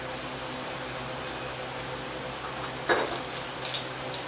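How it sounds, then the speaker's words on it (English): Skin-on salmon fillet searing skin side down in a hot pan, a soft sizzle under the steady roar of a stove exhaust fan, with a brief louder burst of crackling near the three-second mark. "if you have salmon with the skin on it, you're going to cook it skin side down first."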